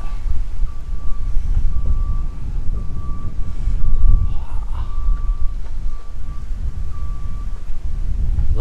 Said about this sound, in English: Woo, it's windy out here.